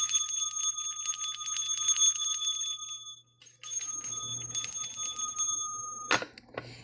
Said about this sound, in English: the bell.